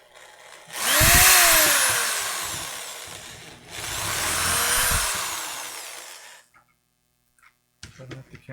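A power drill countersinks a hole in two long, loud whirring bursts whose pitch rises and then falls, followed by silence and a few faint handling knocks.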